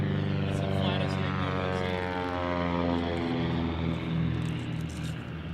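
A propeller airplane flies low over treetops, its engine droning loud and steady with a rising and falling pitch as it passes close by.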